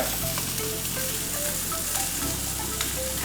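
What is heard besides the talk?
salmon pan-searing after being flipped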